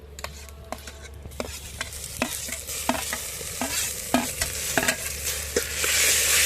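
Tomatoes sizzle in a pan over a village cooking fire as a spoon stirs them in repeated sharp scraping strokes, the frying hiss building louder toward the end, close up.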